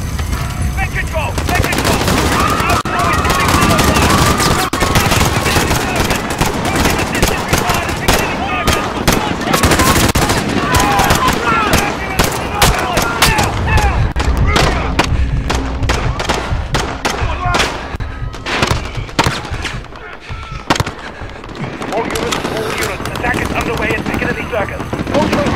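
Sustained loud gunfire from Call of Duty: Modern Warfare, dense bursts of automatic shots and thuds running continuously with a few sharper cracks, while voices speak over the battle.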